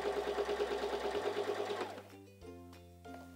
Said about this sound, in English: So let's press down on our foot control for a straight stitch.